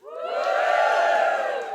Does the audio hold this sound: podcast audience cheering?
yes